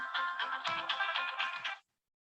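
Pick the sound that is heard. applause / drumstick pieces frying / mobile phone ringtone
mobile phone ringtone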